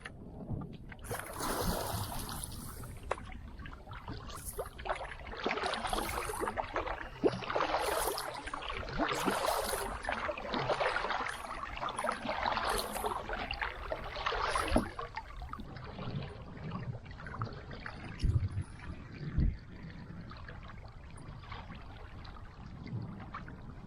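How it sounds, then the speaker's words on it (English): A canoe runs along under a wind paddle sail on an early spring trip, giving steady soft water swishing and rushing with breezy wind noise throughout, close and continuous with no voices. "Anytime I get a chance, I break out the wind paddle sail for a free ride."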